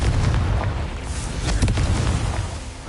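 A Confringo blasting curse in Hogwarts Legacy goes off as a loud, sustained, rumbling explosion with a deep boom and crackling debris, filling the whole moment.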